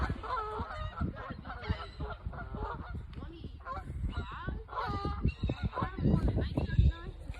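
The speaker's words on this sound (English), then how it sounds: "Look at these ducks." Geese or ducks honk repeatedly in a noisy flock nearby, with overlapping loud calls running throughout.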